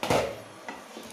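Stuffed masala arbi (taro) is stirred in a pan over low heat. One firm scrape of the spoon opens the clip, followed by a softer shuffle and faint sizzling.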